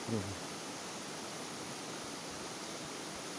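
Kamianka waterfall heard from a distance, a steady broadband rush of falling water filling the whole clip, with a brief voice at the very start.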